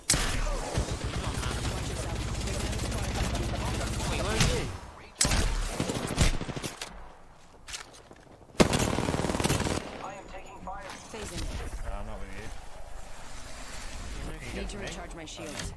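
Gunfire in the battle-royale shooter Apex Legends, bursts of rapid automatic shots and fusillades rattling loudly through most of the stretch, briefly dropping out before resuming, with a voice talking over the action.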